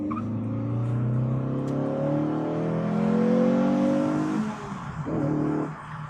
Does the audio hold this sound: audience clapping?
no